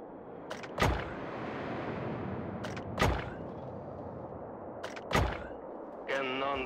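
Soviet cannons fire in a real-time strategy video game, three heavy booms spaced about two seconds apart, each with a sharp crack and a rumbling tail, over continuous battle noise, with a short voice line at the end.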